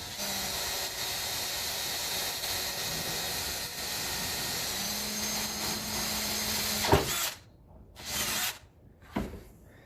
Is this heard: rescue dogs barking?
no